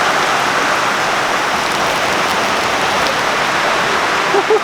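Steady rain falling outdoors, a dense, even hiss of drops that stays loud and close throughout with no pauses.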